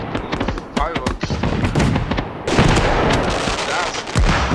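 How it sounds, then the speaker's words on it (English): Fireworks burst in the video game Fireworks Mania: a dense, loud volley of sharp cracks and booms fires in rapid irregular succession, with some talk mixed in. "Fireworks."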